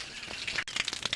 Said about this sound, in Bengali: জল পড়ে যাচ্ছে।